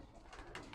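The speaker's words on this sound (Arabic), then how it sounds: "جيب من هذا الحمام بزارق عيون بيض" Pigeons in a loft coo softly and faintly in a short burst, set against a dense, noisy background with no talking.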